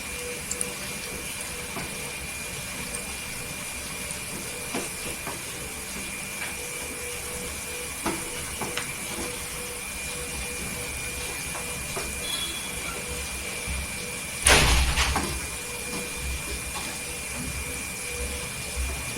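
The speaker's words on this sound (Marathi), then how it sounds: "इथे पूर्णपणे भजी फ्राय करून घ्यायची इथे बघा भजी अशी टाकायची" Besan pakoda bhaji frying in hot oil, a steady dense sizzle that runs the whole time, with one brief louder crackle as more batter drops in.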